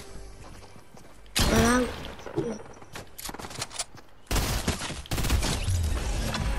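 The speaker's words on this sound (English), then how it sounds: "I got shot from other kids." Gunfire in the Fortnite video game as a player takes hits: loud rapid bursts of shots and mechanical clatter arriving in waves, close and intense, with voices talking between and over them.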